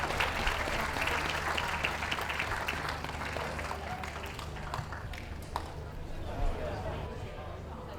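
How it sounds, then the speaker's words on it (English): Dense crowd applause fills a dog show ring, steady and loud across the whole stretch, with a faint hum underneath and the clapping thinning slightly toward the end. "Can we have a big round of applause for the rest of our Best of Breed winners?"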